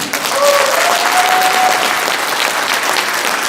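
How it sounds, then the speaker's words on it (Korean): A political rally crowd applauds for the Democratic Party of Korea, a dense, steady wash of clapping that stays loud throughout with a faint tonal whine above it. "박수 한번 부탁드립니다."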